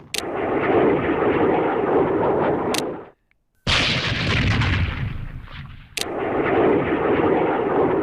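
Aircraft in the wargame Operational Art of War IV, a dense roaring drone of engines mixed with rumbling explosive fire that stops briefly, then returns in two loud stretches with sharp cracks at their starts, no talk.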